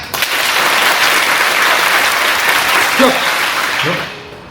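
A roomful of students clapping together in a dense, loud burst of applause that holds for about four seconds before tapering off, with a few brief voices near the end.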